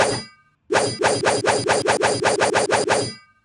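A rapid series of metallic clanging hits, around a dozen evenly spaced strikes, loud and close, with a separate clang just before them.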